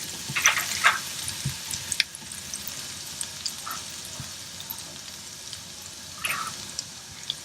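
Crushed garlic frying in a pan: a soft, faint sizzle with a few brief clinks and stirring scrapes scattered through, no voices.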